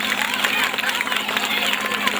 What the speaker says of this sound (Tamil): நல்ல கைத்தட்டுங்க பார்க்கலாம்.